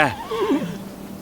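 A white horse in a stable lets out a single close, clear neigh that rises and wavers before trailing off, with no talking over it.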